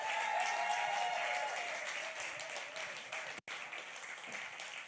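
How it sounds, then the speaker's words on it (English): An audience at a writing studio event applauds a group of writers, steady clapping from a modest crowd holding an even level, with a faint tonal hum underneath and a momentary dropout near the end. "Give them all a round of applause."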